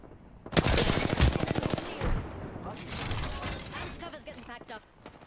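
Rapid automatic gunfire from an Apex Legends match, loud bursts of repeated shots with a sharp rattling rhythm, fading into scattered fire while a voice talks over it.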